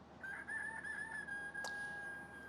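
A Fisher-Price The Farmer Says See 'n Say toy plays a synthetic rooster crow, a thin, steady electronic tone lasting about two seconds, with a short click partway through.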